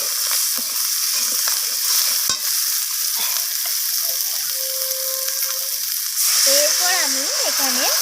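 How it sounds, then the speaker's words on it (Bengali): Egg curry masala sautés with coriander leaves in a hot pan, a loud continuous sizzle with a spatula stirring and scraping close by, a little louder toward the end. "ধনিয়া পাতাটা দিয়ে আমি আবারও কষিয়ে নিচ্ছি"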